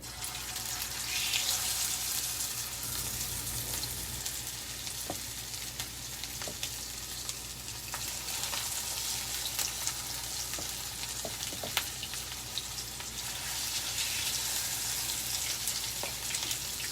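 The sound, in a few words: crab cakes browning in frying pan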